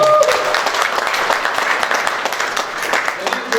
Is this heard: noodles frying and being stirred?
no